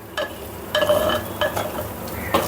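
Garlic and ginger paste cooks down in a pan for mutton bhuna, heard as several sharp metallic spatula strokes and scrapes at close range over a low frying hiss, with no voices.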